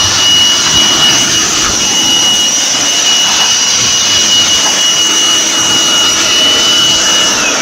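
A Makita DUB182Z cordless blower runs steadily throughout, a loud, close, continuous rushing whine of air with no talk over it.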